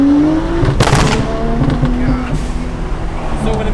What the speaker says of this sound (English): So when it makes the big pop, that's when it starts breaking up in the next gear.